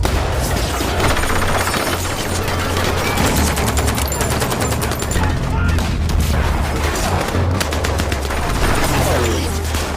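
Rapid bursts of gunfire crackle without pause through a film shootout between two rival gangs, loud and dense with a low rumbling bed beneath and no clear talk.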